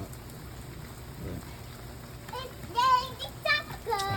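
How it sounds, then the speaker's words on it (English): Rain starts falling outdoors during a car repair, a steady soft hiss of drops throughout, with faint voices breaking in near the end. "it just started raining. We got to stop."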